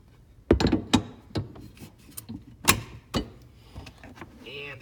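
Rear cargo compartment panel on a 2016 Jeep Cherokee being popped out, a few sharp plastic clicks and knocks up close, followed by quieter handling rattles.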